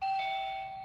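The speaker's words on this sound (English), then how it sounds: "As you can hear the Zoom bell going off," A Zoom meeting entry bell sounds as students rejoin a remote standardized testing session: a single sustained electronic ding with a bright steady tone, loud and close, fading slowly with no talk over it.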